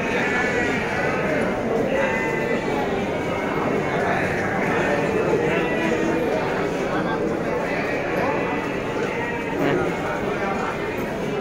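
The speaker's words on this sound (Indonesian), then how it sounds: "Domba jajalon." Bleating from Garut jajalon sheep at the Tanjungsari livestock market, mixed into a dense, steady crowd din with people talking throughout.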